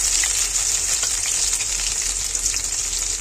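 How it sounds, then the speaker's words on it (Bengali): Onions and spices fry in hot oil in a wok, giving a loud, dense, continuous sizzle that holds steady from start to finish, with no voices. "এই তো কড়াইতে তেল দিয়ে দিয়েছে, গরম হচ্ছে। তো এই পর্যায়ে আমরা পেঁয়াজ, মানে যাবতীয় যা জিনিস আছে সব কিছু দিয়ে দেবো।"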